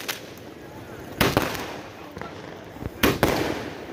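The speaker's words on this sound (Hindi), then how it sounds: "और इसका शॉट दिखाता हूँ किस तरीके से ऊपर जाके निकलता है, जैसे निकलता है वैसे ऊपर दिखाऊंगा मैं।" Diwali sky shot fireworks launching and bursting outdoors, with two sharp clusters of cracking pops over a steady rushing background noise, moderately loud and somewhat distant.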